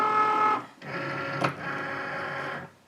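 Cricut Maker cutting machine motor whirring as it loads a cutting mat, a close mechanical hum that pauses briefly, clicks once, then runs steadily again before stopping.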